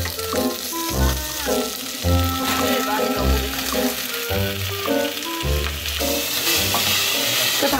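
Beef sizzles and fries in a pot for seaweed soup, a loud continuous hiss beneath overlapping chatter and background music.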